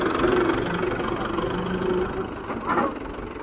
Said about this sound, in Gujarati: તો કૃષિભાઈ બેસી ગયા હે ટ્રેક્ટરમાં ને એને જવું છે ભર્યું લેવા.